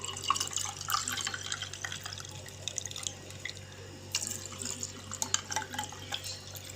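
Water pours and trickles into a container while a mint lemon sharbat is being made, an uneven splashing and dripping stream that runs steadily with no talk over it.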